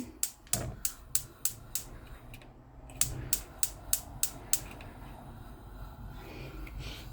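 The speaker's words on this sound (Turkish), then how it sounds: "Şimdi öncelikle tüpümü açıyorum." Gas stove igniter on a cooking setup fed by a gas cylinder, sounding as two quick series of sharp rapid clicks, about six each, close and fairly loud, followed by quiet background, with no talking.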